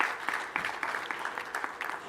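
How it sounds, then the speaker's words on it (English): An audience claps steadily for Professor Nick Wanjohi at a Kenya School of Government centenary session, a dense, even wash of applause with a few voices faintly under it. "Let's give Professor Nick Wanjohi a clap"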